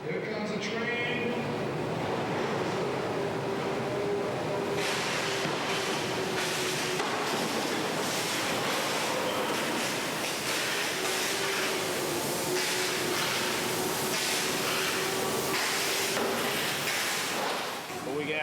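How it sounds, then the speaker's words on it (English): A subway train approaches through a tunnel as a steady, loud rumble with rhythmic clacks and metallic knocks building over time, while people talk underneath. "Here comes a train."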